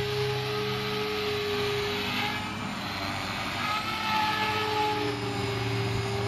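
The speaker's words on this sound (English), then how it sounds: "Helicopter spins well." A Walkera V450D03 flybarless six-axis belt-driven collective-pitch RC helicopter flying in normal mode, its steady motor and rotor whine holding close and constant throughout, with no talk.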